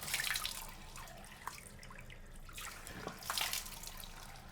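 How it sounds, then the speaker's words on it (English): Cool tap water runs softly into a sink while someone rinses their face, with a steady faint wash and light splashes rising twice as hands bring water up, close and alone. "So I just rinse it with cool water."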